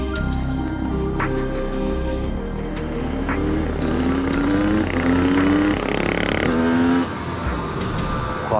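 KTM 500 two-stroke supermoto motorcycle accelerating hard on an open road, its engine climbing through several rising rev sweeps with brief shifts between them, loud and close throughout.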